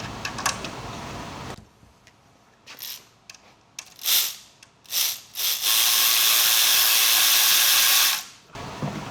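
Impact wrench fastening up pipes on a 2023-2025 6.7L Powerstroke HO diesel engine: several short, loud bursts of whirring and hammering, ending in one long sustained run of about three seconds, with no talk.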